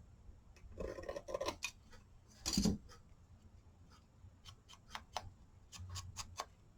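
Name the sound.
trimming paper for a book page pouch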